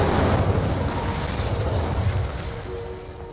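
The Incendio fire spell cast in the video game Hogwarts Legacy is a loud roaring whoosh and rumble of flame at the start that slowly tapers off into a fading crackling tail.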